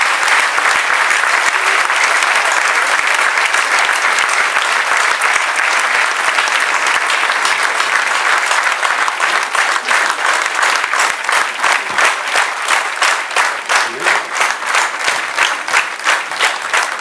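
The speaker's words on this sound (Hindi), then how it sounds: "ये अमिताभ बच्चन के लिए तालियां हैं" A large audience applauds Amitabh Bachchan at the Lata Dinanath Mangeshkar Award ceremony, loud sustained clapping that turns into steady rhythmic, in-time claps during the second half.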